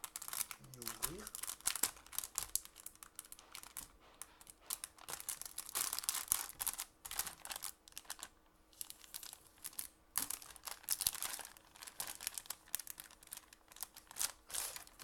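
Crinkly plastic packaging of a construction set is torn and crumpled open in short, close bursts, with speech in between.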